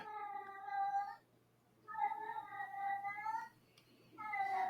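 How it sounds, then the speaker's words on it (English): A female house cat meows in three long, drawn-out calls with short pauses between them, faint and somewhat distant indoors. "What is your cat doing?"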